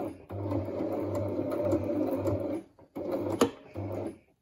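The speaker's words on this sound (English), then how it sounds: "So all I'm going to do is do a couple of stitches and then go back." A sewing machine stitches through a handmade C6 notebook cover in short bursts, its steady mechanical whirr stopping and restarting a few times with brief pauses between runs.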